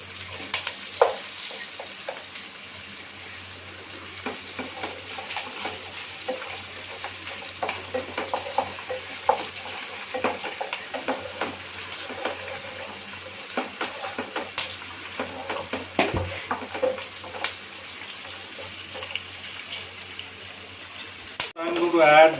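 Onions fry in a pan with a continuous soft sizzle while a spoon stirs and tosses them, giving scattered scraping clicks, close and moderately loud throughout, with a louder clatter right at the end.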